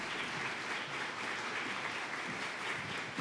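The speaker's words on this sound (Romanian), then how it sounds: "haideți să le aplaudăm tare" An audience claps for content creators called onto a stage, a steady, even wash of applause held at a distant, fairly quiet level for a few seconds.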